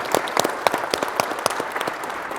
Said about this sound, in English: Please give a big round of applause to Lauren,